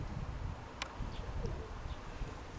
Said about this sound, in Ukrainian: Голуби називаються тучерези.